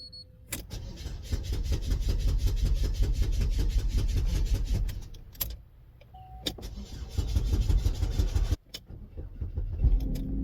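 A 2012 Chevy Equinox with a 2.4L engine and a failed aftermarket high-pressure fuel pump, cranking and starting, then idling steadily at close range, with a few sharp clicks and a brief drop in the middle.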